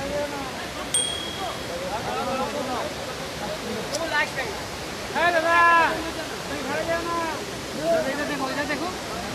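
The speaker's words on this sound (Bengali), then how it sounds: "এটাই হচ্ছে ঝর্ণার শেষ মুহূর্ত এখান থেকে জল বেয়ে চলে যাচ্ছে" Water from a mountain waterfall streams steadily downhill, a broad continuous rushing wash heard from nearby while someone talks over it.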